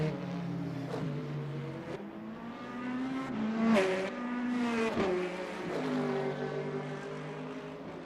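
Racing cars from a racing video game at Imola roar through the clip, engines revving and shifting pitch as they accelerate and brake, loud and continuous with no talk.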